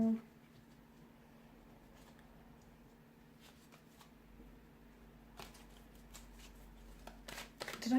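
Tarot cards being shuffled, a soft papery riffle and flutter that runs steadily through the whole stretch with a few sharper slaps and flicks near the end, close by with a faint background hum.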